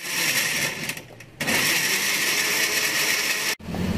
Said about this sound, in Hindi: और अब हम इसको अच्छे से ब्लेंडर में चलाते हैं।